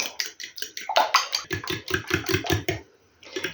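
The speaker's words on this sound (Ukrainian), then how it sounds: "І гарненько так зараз переб'ю їх вилочкою." Rapid, rhythmic clinking of a fork whisking eggs in a bowl, close and fairly loud, with a brief pause before the beating resumes.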